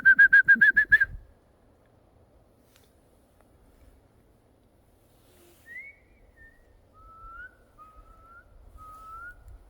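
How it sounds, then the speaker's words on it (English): Whistles in the woods of Cannock Chase at night: a loud, warbling whistle trill comes first, followed after a quiet pause by several faint, distant short whistles. "I heard two whistles down there"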